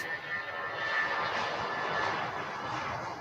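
A Virgin Atlantic airliner running on sustainable aviation fuel taxis around a bend at an airport, its engines giving a steady, moderately loud whine and rush heard from a distance, with no talk over it.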